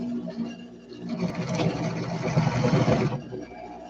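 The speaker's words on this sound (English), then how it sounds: "while I have this machine on, I'm going to sew these" A sewing machine stitches fabric, its motor whirring in a steady run for about a second and a half at moderate volume before it stops, with quiet room noise before and after.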